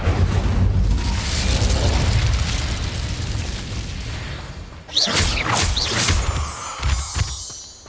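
The Incendio fire spell cast in Hogwarts Legacy, a loud roaring whoosh of flame with a fiery burst, followed by crackling bursts and swishing magical sweeps.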